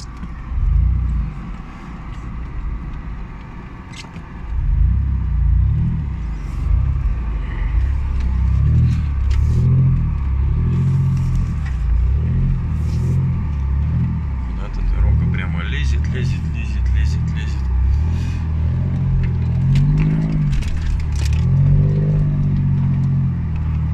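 An off-road SUV engine revs in pulsing surges as the vehicle climbs a snowy hill on a forest track, loud and close, with people talking over it throughout.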